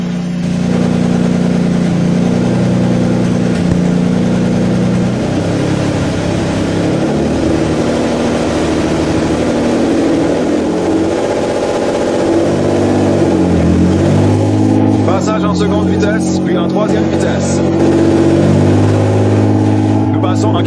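A damaged, salvaged Nissan GT-R pulls away in automatic first gear, its engine droning at a steady, moderately loud pitch with gentle shifts in tone, while people talk over it.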